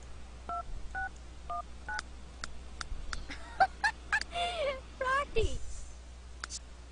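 A phone in The Sims 3 game plays a short run of electronic dial tones and beeps, faint and intermittent, while a person talks and makes playful squawking noises over it.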